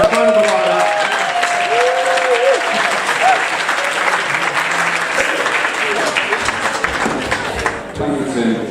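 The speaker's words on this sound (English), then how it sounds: "can we please have a massive round of applause for David Bramwell and Bavard" An audience gives David Bramwell a big round of applause: dense, sustained clapping from a crowd, loud and close, holding steady before tapering off near the end.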